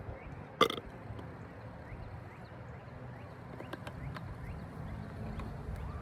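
A single sharp hiccup from a man, close and abrupt, followed by quiet room tone.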